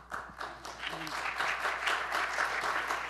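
A panel audience applauds after Francisco Ayala is introduced at a discussion on Darwin in the 21st century, a steady wash of clapping from a crowd in a hall with a voice talking over it.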